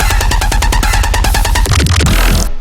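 A dense, loud electronic music mix played through a sidechain group channel that carries everything except the kick and snare, pumping rhythmically with rapid stuttering synth pulses before a noisy sweep at the end.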